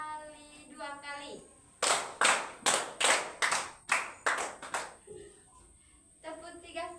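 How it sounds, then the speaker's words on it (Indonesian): Children clap in a classroom rhythm, two quick pairs of sharp, close claps standing out between stretches of a child's sung or spoken voice. "tepuk 2 kali 2 kali,"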